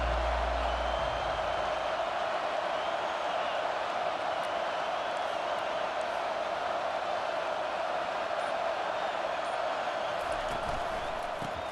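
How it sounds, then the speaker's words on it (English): Stadium crowd noise in EA Sports College Football 25, a broad steady roar of a packed home crowd held at an even level with faint cheers mixed in, distant and continuous. "This crowd trying to show them what it's going to be like all day in this house."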